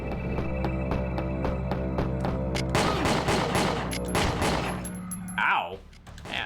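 Gunfire in the video game Winback: a steady run of evenly spaced shots, then a denser burst of louder impacts with clanks and a whooshing sweep near the end, while a voice talks over part of it.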